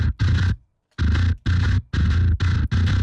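Thick bass guitar riff layering the gritty Neural DSP Darkglass B7K plugin with the clean Joey Sturgis Tones Bass Forge plugin, played in choppy rhythmic phrases, loud and close.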